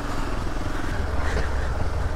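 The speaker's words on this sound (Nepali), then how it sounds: "इन्जिन अझै फोड्छ कि के हो ठोक्दै हिँडिरहेछ" A group of friends' motorcycle engine runs with a rough, knocking idle, a steady close mechanical rumble continuing throughout without pause.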